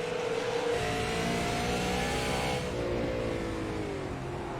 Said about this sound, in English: you can hear the motor screaming on Checkmate's car